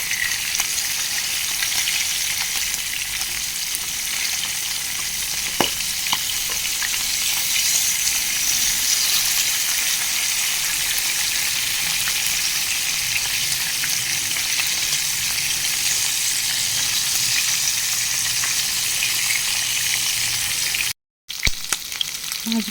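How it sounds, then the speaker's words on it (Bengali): Koi fish fry in hot oil, a loud, steady sizzle and crackle that runs on without pause. A faint stir comes through now and then, and the sound cuts out briefly near the end. "এবার আমি মাছগুলো ভেজে নেব।"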